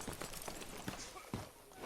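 Horse hooves clop at a walk in the Red Dead Redemption 2 epilogue, a handful of soft, faint steps thudding irregularly under quiet game ambience.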